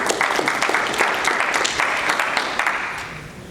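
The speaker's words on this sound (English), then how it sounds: "You clap it up for that." An audience applauds at a talk on networking, dense steady clapping that fills the whole stretch and eases slightly toward the end, with no voices over it.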